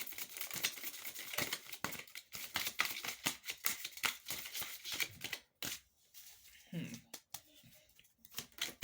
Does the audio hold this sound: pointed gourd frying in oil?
no